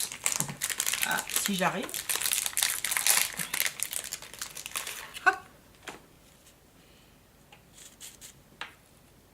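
Wrapping paper around a rose-scented gift crinkles and rustles loudly and close for several seconds, then fades into a few scattered rustles and taps; someone speaks briefly during the unwrapping.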